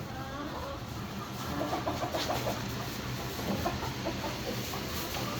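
Scattered chicken clucks and a rooster's calls over a steady hum from a coop fan, moderately distant, continuing throughout.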